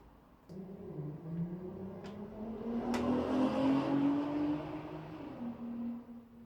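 A car passes outside a home garage during a radiator swap on a BMW E30, its engine drone rising as it approaches and fading as it leaves, faint and distant, with a few light taps nearby.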